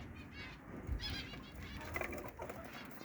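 Caged lovebirds, a lutino mutation, give faint chirps and squeaky calls over soft background rustling and low rumble.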